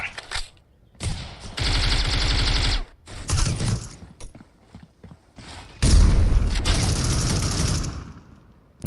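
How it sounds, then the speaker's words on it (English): Pistol shots fired through a wall in the tactical shooter C-OPS, heard as two long stretches of rapid, mechanical rattling fire separated by short gaps and sharper bangs, loud and close. "shooting with a pistol through the wall"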